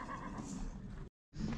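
At the Kara-Balta livestock market a stallion gives a short whinny, close and fairly clear over faint market background, then the sound briefly cuts out.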